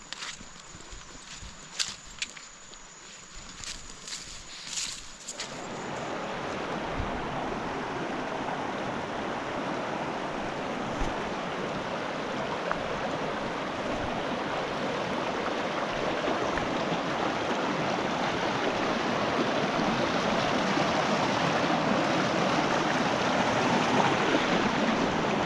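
Water from Tat Phun waterfall and its stream rushes in a steady, loud broadband roar that swells after a few seconds of quieter footsteps and rustling, then continues unbroken and close.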